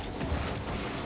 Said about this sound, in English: I like the engine noise I've got on this.